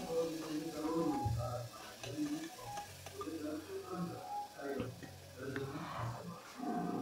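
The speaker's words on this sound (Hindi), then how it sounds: "अब इस मसाले को थोड़ा सा अच्छे से भून लेंगे" Spice masala being roasted in a pan for masala kadhi, a soft continuous sizzle with repeated scraping stirs of a spoon against the pan, fairly quiet.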